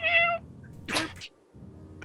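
A cat gives a short, clear meow up close, followed by a rustle, with no voices over it.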